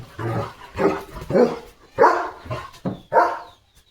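A German Shepherd puppy barks close by at a cat, about six sharp barks in an uneven rhythm, then falls quiet.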